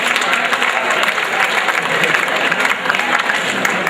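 A school audience applauds student winners at an academic awards program, a dense, steady wash of clapping throughout with no pauses.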